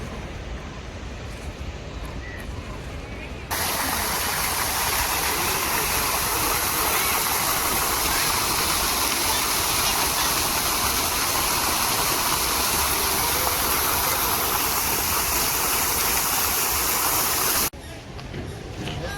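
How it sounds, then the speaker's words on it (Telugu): Artificial waterfall at Lalbagh lake in Lalbagh Botanical Garden, Bengaluru: loud, steady rushing water lasting about fourteen seconds, close by, with quieter outdoor ambience before and after and no talk. "ఆర్టిఫిషియల్ వాటర్ ఫాల్స్ ఇది"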